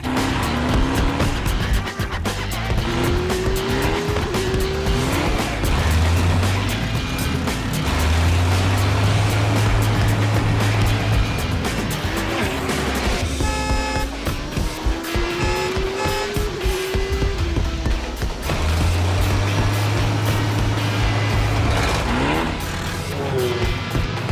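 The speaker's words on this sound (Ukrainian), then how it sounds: "Тисни на газ!" A cartoon car accelerates with its engine revving in rising and falling whines, tires squealing over a busy background of music and effects.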